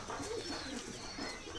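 Pigeons coo softly in a loft where birds are kept for breeding, with low murmuring calls repeating under a steady background hiss.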